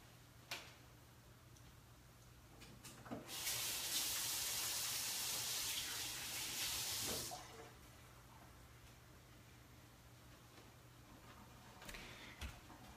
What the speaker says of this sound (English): So I'm going to wash up really quick.